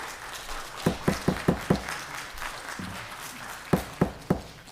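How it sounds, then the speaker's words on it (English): Scattered hand claps from an audience at a city Board of Aldermen meeting: a quick run of five sharp claps, a lone clap, then three more, fairly close in a quiet room. "I'm going to ask the audience to withhold the clapping."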